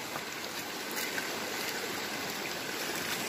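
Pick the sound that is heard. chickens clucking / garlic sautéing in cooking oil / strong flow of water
strong flow of water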